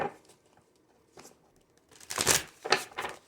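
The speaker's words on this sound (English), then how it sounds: "Let me shuffle this." Tarot cards are shuffled in short bursts of papery riffling and crinkling, close and fairly quiet at first, then louder in the last second.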